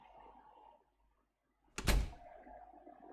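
A door in the Chaos;Child video game shuts with a single loud thunk after a short pause, over a quiet background hum.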